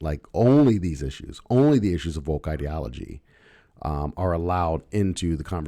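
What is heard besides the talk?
No distinct noise like a dog, phone or traffic.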